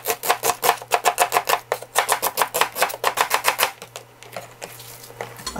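A knife chops an onion for kimchi stew with a rapid, steady run of sharp, loud knocks on a cutting board, then a pause followed by softer scraping and shuffling.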